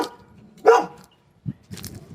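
Neighbor's dog barking outdoors, one clear bark followed by a few shorter, softer yips and woofs after a pause, at moderate distance.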